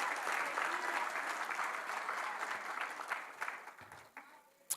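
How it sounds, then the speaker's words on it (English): A crowd claps in sustained applause at a junior school graduation that gradually thins out and fades, ending with a few scattered claps. "So another round of applause for Caden."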